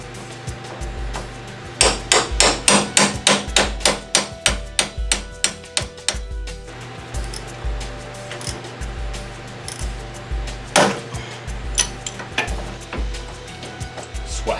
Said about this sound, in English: So I broke down and I rented a Pitman arm puller. Today I'm gonna be using this one.